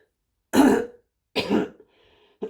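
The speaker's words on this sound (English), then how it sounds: "Excuse me, I've still got a bit of a cough." Two throaty coughs, close and fairly loud, with a short third one trailing after a pause; no talking.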